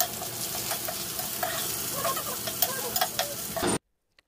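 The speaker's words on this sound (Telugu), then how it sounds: "అవి బాగా వేగిన తర్వాత కట్ చేసుకున్న ఉల్లిపాయలు వేసుకుని ఎర్రగా వేగనివ్వాలి." Chopped onions fry in oil with mustard seeds, cumin, garlic, dried red chillies and curry leaves, crackling and sizzling under spoon stirring, then cutting off abruptly.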